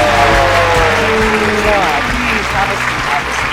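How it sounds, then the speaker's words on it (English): An audience bursts into loud, sustained applause and clapping to welcome a special guest named Legussy onto a talk show, with voices mixed in under the clapping. "Let's give a big round of applause as we welcome our special guest for today, the one and only Legussy!"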